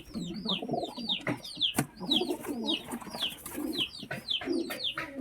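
Pigeons cooing and scuffling inside a loft, with repeated overlapping coos and flapping bursts close to the microphone, no talk.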